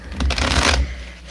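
Tarot cards being shuffled by hand during a live reading, a dense riffling flutter that swells and holds for about a second before dropping away, close and fairly loud with no talking.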